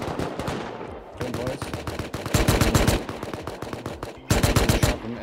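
Gunfire in the survival game Rust, rapid bursts of close, sharp automatic shots in clusters separated by brief pauses, loud and punchy, with faint talk in the background.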